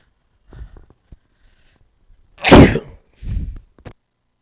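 One person sneezes twice in a row: a faint breath first, then a loud, sharp explosive sneeze followed by a second, smaller one, close to the mic in an otherwise quiet room.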